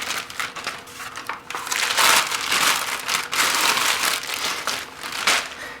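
A plastic bag crinkles and rustles in close, irregular bursts as it is pulled off a Rittenhouse RM20/RM22 AM/FM radio intercom during unboxing, with no voices over it.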